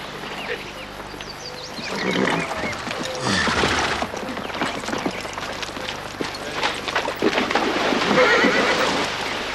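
Horses whinny loudly over a steady rumble of hooves and commotion, the neighing rising and falling throughout.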